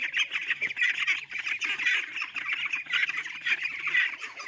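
A flock of Pekin ducks quacks loudly and nonstop in a dense, overlapping chorus of harsh squawks as they crowd in toward food on a farm.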